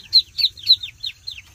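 Newly hatched Muscovy ducklings in a pen in Cần Thơ peep in a quick series of high, thin, downward-sliding calls, close and clear with no talking.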